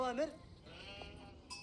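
A sheep bleats briefly at the start in the Age of Empires 4 strategy game, a short wavering bleat near the front, followed by quiet game ambience and a faint voice at the end.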